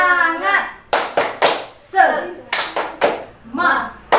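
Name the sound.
group clapping hands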